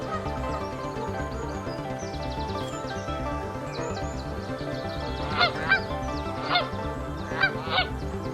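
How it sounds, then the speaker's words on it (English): A goose, a waterfowl, honks several times over steady background music, with loud, distinct honks clustered toward the end. "Goose is a bird from waterfowl species."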